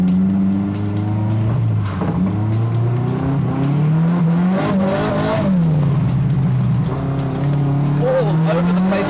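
Tyres of a Rapid RS13 race car scrubbing and spinning on a wet road, a loud continuous engine drone with rising and falling revs as the wheels break loose, heard close up under the car's roar.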